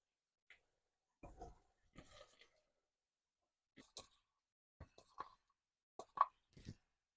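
Green beans drop into a cooking pan in a vegetable lunch preparation, giving a few faint, scattered plops and soft clatters spread across the moment with quiet gaps between them.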